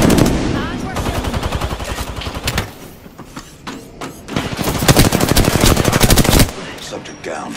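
Rapid automatic gunfire in the video game Apex Legends, loud and close, with dense bursts of shots that keep going, break off briefly and then return just as hard. A game voice speaks over it.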